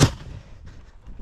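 A single sharp blast from a grenade during combat at a Ukrainian army strongpoint near Novomykhailivka, a hard thump at the onset that decays into a rumbling tail, loud and fairly close.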